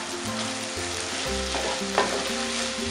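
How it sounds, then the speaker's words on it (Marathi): Finely chopped onion is sautéed in a hot pan for Koli-style dried prawns, with a continuous sizzle, a few scraping stirs and one sharper clink near the end, without any voices. "परतून घेऊया."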